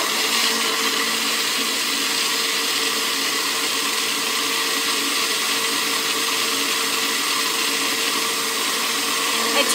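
A blender whirs continuously, loud and steady, mixing a Shakeology shake with cinnamon while on the road, with no pauses or talk.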